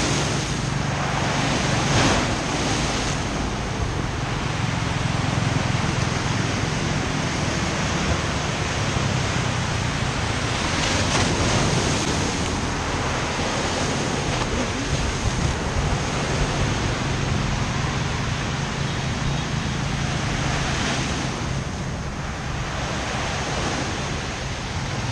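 Strong sea waves roll onto Nha Trang beach on Pham Van Dong under overcast skies before a storm, a continuous loud roar of surf mixed with gusting wind buffeting the microphone, with no voices.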